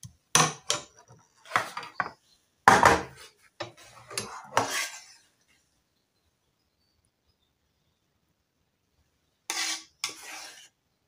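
Egg curry being served at home: a run of dishes and cutlery clattering close by for about five seconds, scrapes and clinks in quick bursts, then quiet, with a final short pair of clinks near the end.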